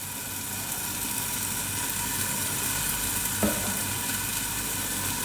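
Three tablespoons of oil heat in a hot pan with a constant, fairly loud hiss and sizzle, broken by one brief clink partway through.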